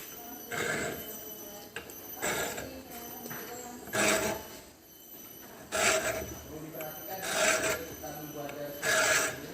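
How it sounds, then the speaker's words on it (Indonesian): A coarse file rasping across a flat metal workpiece at a bench: about six long, gritty push strokes in a slow, regular rhythm, close and moderately loud, with quieter pauses between strokes. "untuk mendapatkan hasil benda kerja yang rata, kita menggunakan kikir kasar terlebih dahulu"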